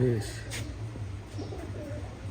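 A pigeon coos softly in a Giribaz pigeon farm, low rolling calls close by with a faint chirp, under a quiet background and occasional voices.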